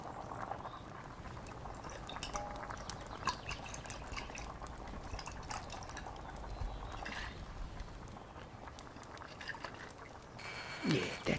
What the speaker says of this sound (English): let me pour a little bit for you